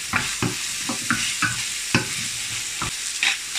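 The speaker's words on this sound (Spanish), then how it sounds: "en el mismo aceite vamos a echar la cebolla, zanahoria y ajo tierno o ajo" Onion, carrot and garlic fry in the oil left from browning beef for a stew. A soft, steady sizzle runs throughout, broken by repeated spoon scrapes and stirring knocks, with no talking.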